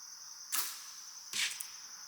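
Two archery shots at a target, each a sharp whooshing release from the bow followed by a brief rush, spaced under a second apart over a steady outdoor hum, with no talking.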